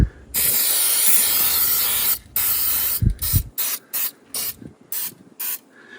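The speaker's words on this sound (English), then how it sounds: "Anything that's even got remote corrosion on it, you want to spray." Long hissing blast from an aerosol can of anti-corrosion spray onto a Sea-Doo engine, then a series of short, sharp spray bursts in quick succession, close and loud.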